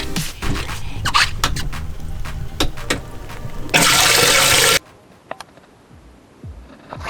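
Water rushes loudly into a fishing boat's live well holding a live bass, with clunks and scrapes around it, then cuts off abruptly, leaving quiet with a few small knocks.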